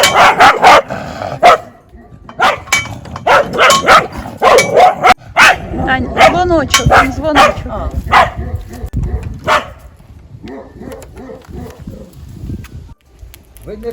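A dog barks repeatedly and loudly in short, irregular bursts near the listener while people talk over it, some yips mixed in, tapering off toward the end.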